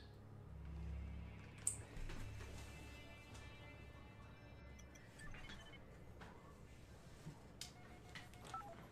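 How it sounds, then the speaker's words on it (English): A phone being dialed during a cutscene in the fighting game Mortal Kombat 11, with short electronic tones and ticks over a low background bed, faint and indistinct in places. "Calling Dad on my phone."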